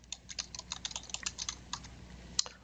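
Rapid clicking of computer keys as someone types in a database program. The keystrokes come in quick, uneven bursts and end with a single sharper press of the Enter key, all close and quiet with no speech.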